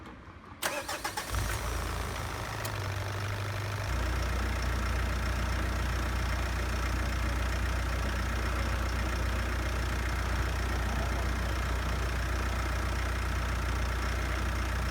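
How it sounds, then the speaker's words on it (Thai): A car engine starts up after its injector sealing washers were replaced, then settles into a steady, even idle that holds close and loud throughout with no talking. "หลังจากที่ สตาร์ทเครื่องเสร็จแล้วนะครับ เสียงเครื่อง ออมันจะนิ่มขึ้นนะครับ"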